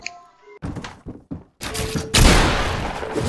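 Several heavy shots crack out from an assault rifle in Fortnite, a few separated thumps then a loud, dense burst of fire with crashing impacts, close and forceful, with no talk.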